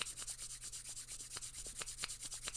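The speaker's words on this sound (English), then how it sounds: "bring your palms together, rub them vigorously, stimulating the nervous system" Palms rub together vigorously in a quick, steady back-and-forth rhythm, a close, soft swishing friction repeating several times a second with no talking.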